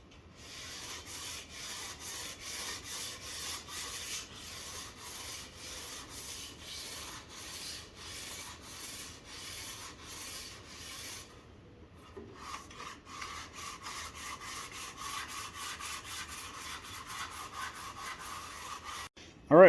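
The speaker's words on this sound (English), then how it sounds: "So now we're going to sand this down flush." Rhythmic back-and-forth sanding strokes rasp against a wooden mancala game board, steady and close, with a brief pause midway before the scraping resumes.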